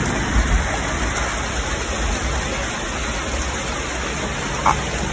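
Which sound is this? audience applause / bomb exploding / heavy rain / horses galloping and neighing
heavy rain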